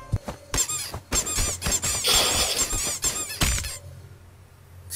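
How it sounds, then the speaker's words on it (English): Cartoon-style squeaks from bouncing on a bed or sofa in a Dragon Ball Super parody, a rapid series of bright rubbery squeals with short pauses, loud and close, ending in quiet. "Bouncing on it makes a cute squeaking sound."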